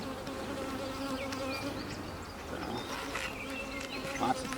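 Honeybees buzz angrily around an open hive during a brood inspection, a steady dense drone with individual bees whining in close and sweeping past the ear, continuous and fairly loud.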